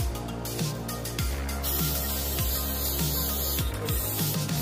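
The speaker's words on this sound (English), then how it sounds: "So I'm going to spray my dish" Hissing bursts of canola cooking spray from an aerosol can onto a baking dish, several short sprays in a row, close and loud over a low background hum.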